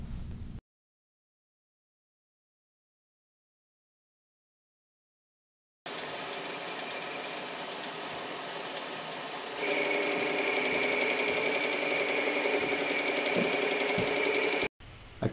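A metal lathe taking light finishing cuts to round a bushing for a headlight motor, a steady mechanical whirring hum that breaks off into silence, then resumes and grows louder with a higher tone.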